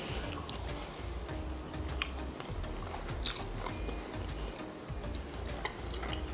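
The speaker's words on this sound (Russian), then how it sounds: "Ну что, друзья, пробуем эту вкусноту." Crunchy snack being bitten and chewed close up, a steady run of crisp crunches and mouth sounds with faint clicks, continuing without pause and no talking.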